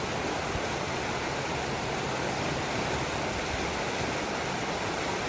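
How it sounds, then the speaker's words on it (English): A river flowing near Denali, Alaska, makes a steady, loud, close rushing roar of whitewater that holds unbroken throughout, with no voices. "We're all enjoying this river."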